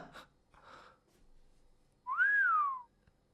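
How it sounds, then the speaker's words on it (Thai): A single short whistle rising then falling in pitch, clear and near, following a few faint breathy sounds in an otherwise quiet cartoon-game scene. "อ่าผิวปากจ้ะ"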